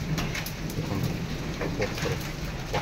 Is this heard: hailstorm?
yes